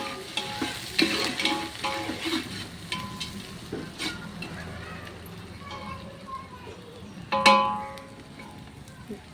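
Sliced onions sautéing in hot oil with bay leaf and cloves for a Tamil chicken biryani, a steady moderate sizzle with scraping stirs and occasional clinks, one sharper burst near the end, while a voice talks over the cooking.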